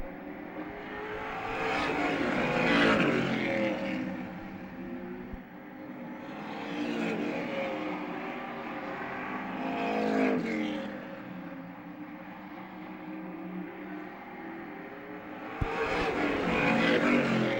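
Late model race cars in a B feature circle a track, their engines swelling loud as packs roar past and fading between, in repeated waves of revving and whirring across the stretch.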